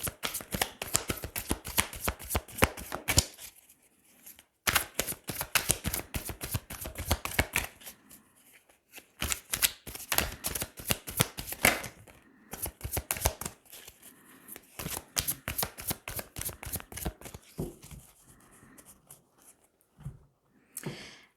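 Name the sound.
shuffling tarot cards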